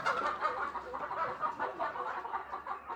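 Country chickens on a small natural farm cluck and chatter as they settle to roost in the evening, a steady, close chorus of overlapping clucks with no talking.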